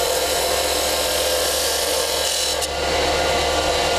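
A wood lathe gouge makes a light cut into a cove on spinning wood, a steady continuous rasping hiss that holds close and loud throughout with only a brief dip near the middle.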